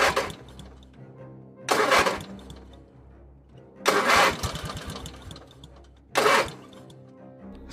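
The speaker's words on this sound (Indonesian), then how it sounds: "tiba-tiba motornya mogok tepat di depan makam" A motorcycle engine sputters in repeated short bursts, four rough revving attempts separated by quieter idling gaps, each surge cutting out as if the engine keeps stalling.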